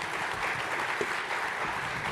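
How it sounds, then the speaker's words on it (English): Audience at the 1st Annual Johor Investment Summit 2024 applauds steadily in a hall, a dense, even clapping that fills the whole moment without a break. "A round of applause for the gentlemen."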